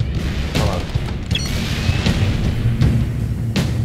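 Booming cannon shots from the video game Halo 3: ODST land at irregular intervals over a dense, noisy battle background, with voices talking underneath.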